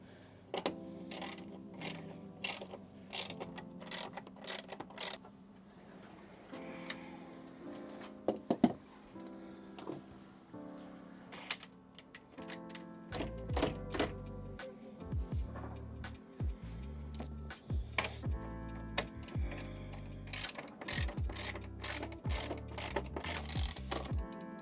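Ratchet wrench tightening bolts through the floor of a Sprinter van, a run of quick mechanical clicks and clacks. Later come heavier rhythmic bursts and clunks, close up and fairly quiet, with no talk.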